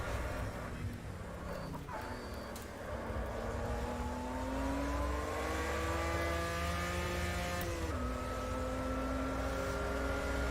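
An Opala Stock 86 race car engine in Automobilista at the Estoril 1988 circuit revs steadily higher, with its pitch climbing and then dropping sharply at gear changes. The engine runs loud and continuous throughout.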